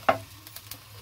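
Cumin seeds dropped into hot oil in a pan: one sharp sizzling burst at the start, then a few faint ticking pops that trail off.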